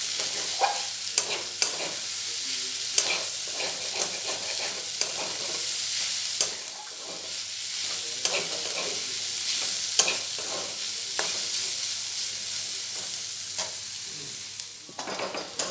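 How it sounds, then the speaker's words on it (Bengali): Potatoes and onions fry in a pan with ginger, a steady sizzle broken by repeated scrapes and knocks of a spoon stirring, close and without talk. "আলুগুলো ভালোভাবে পেঁয়াজের সাথে ভাজা হয়ে গেছে"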